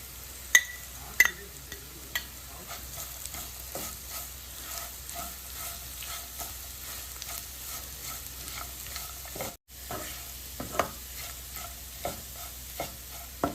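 Grated coconut being stirred into fried onions in a pan while making coconut rice, giving steady scraping and stirring strokes with occasional soft clinks over a low sizzle, close and fairly quiet, with no talking.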